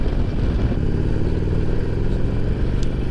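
A Harley-Davidson motorcycle engine drones steadily while riding, a loud, low, even rumble with wind noise and no break across the short span.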